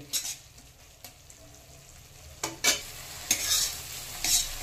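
Mango achari rohu fish curry with added sugar being stirred in a pan, with a low sizzle under several scraping strokes of a spoon, some close and sharp.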